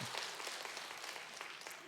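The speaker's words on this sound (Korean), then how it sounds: "우리 임마누엘 교구분들을 향해서도 우리 격려의 박수, 축복의 박수" A church congregation at a Friday senior worship service claps in encouragement and blessing: a faint, steady patter of many hands lasting about two seconds, heard from a distance.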